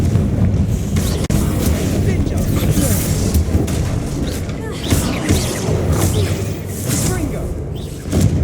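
Confringo fire spell blasts in Hogwarts Legacy, a dense, booming burst of explosions and crashing debris in a tomb, with a loud sustained rumble and repeated impacts throughout.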